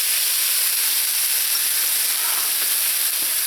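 Vegetables with soy sauce, sesame oil, rice wine and oyster sauce stir-fry in a pan for Singapore noodles. A loud, steady sizzle and hiss runs throughout, with faint scraping of stirring.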